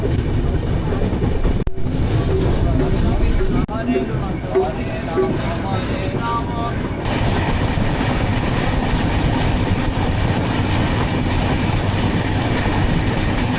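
Steady low rumble of a stationary passenger train halted at Belda station platform, with broadband hum and people talking nearby over the machinery noise.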